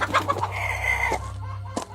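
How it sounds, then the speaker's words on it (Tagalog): Chickens beneath a house cluck in short, uneven bursts, with one drawn-out call in the middle, fairly close and without any speech. "Mahabang oras na umistambay sa silong ng bahay si Aling Rowena kasama ang mga manok"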